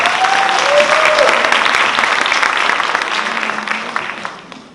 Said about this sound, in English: Can we get another round of applause for her?